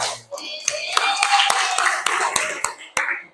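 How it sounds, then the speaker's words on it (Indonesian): A classroom of students in an Arabic micro-teaching lesson at a madrasah claps hands, uneven scattered claps with a few sharp louder ones, close by, with voices murmuring underneath. "Oke, tepuk tangan semua."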